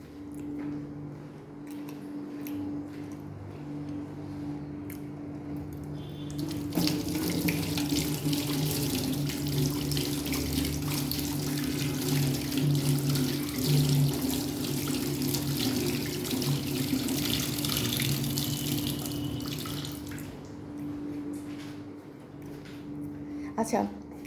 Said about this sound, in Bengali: আমি তো হাতটা ধুয়ে আসি